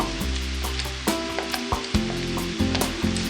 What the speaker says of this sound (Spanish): Entonces agrego el jitomate